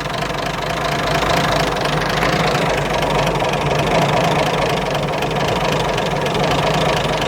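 A G60 Nissan Patrol engine runs rough, a loud, close, continuous uneven idle with a knocking, lumpy pulse and a heavy low rumble, no voices over it.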